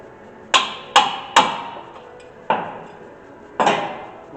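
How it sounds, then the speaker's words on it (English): Hammer taps on a 2017 Nissan Rogue's brake parts during a brake and rotor job: five sharp metallic strikes, three quick ones then two spaced apart, close and loud with ringing decay. "Couple taps with the hammer just to torque it down, tighten it up"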